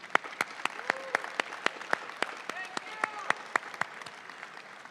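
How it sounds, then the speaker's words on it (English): Steady, distinct hand claps from a small audience at a nursing pinning ceremony, individual sharp claps repeating at a quick rhythm with a few voices calling out underneath. "Let's give Dr. Bunting a round of applause and wish her well on her upcoming retirement"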